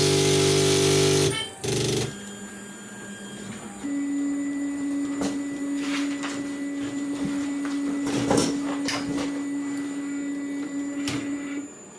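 A 3D printer starts up with a burst of loud mechanical noise, then settles into a steady humming whine with motor tones and occasional clicks and rattles as it runs close by.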